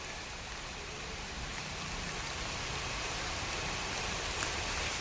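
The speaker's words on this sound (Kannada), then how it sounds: "ಮಳೆ ಬರ್ತಾ ಇದೆ." Rain falls in a garden during eggplant grafting work, a soft, even hiss of drops on surfaces that stays faint and unbroken throughout.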